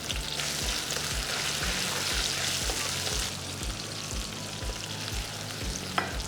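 Onion with half a teaspoon of salt fries in a pan with a loud, steady sizzle. It is stirred with a rhythmic scraping, and a sharp clink of utensil near the end rises above the crackle.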